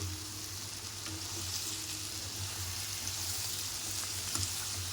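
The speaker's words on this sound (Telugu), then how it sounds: "ఇప్పుడు మనం గోంగూరని కలిపేసుకుందాం" Gongura leaves being stirred into chicken frying in a pan give a steady, even sizzle throughout, with faint scraping of the stirring underneath and no voices.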